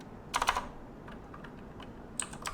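Short bursts of keystrokes on a computer keyboard while entering a value in CAD software: a quick cluster of taps, a pause with a few isolated clicks, then another brief flurry, close and quiet.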